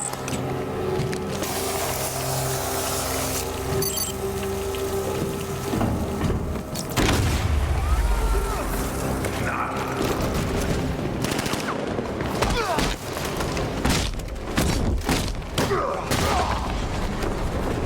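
Batman Arkham Knight gameplay combat with a large explosion, layered booms, gunfire bursts and clattering mechanical impacts over a busy game soundtrack, loud heavy hits scattered across the stretch, a voice talking intermittently.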